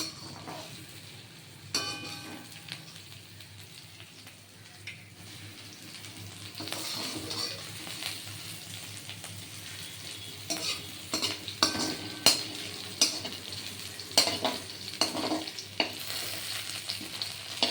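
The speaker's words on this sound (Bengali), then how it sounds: "এটা ভাজতে গেলে প্রথমে একটু তেল লাগে কিন্তু পরে তেল ছেড়ে যায়" Ivy gourd (kudri) fries in oil in a pan, a steady sizzle broken by scraping stirs and metallic clinks that grow busier and louder toward the end.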